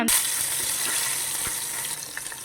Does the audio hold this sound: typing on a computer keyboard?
no